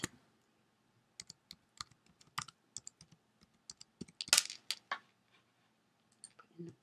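Password being typed on a computer keyboard: sparse, irregular key clicks close by, with a short quick burst partway through and a brief pause before a few final taps.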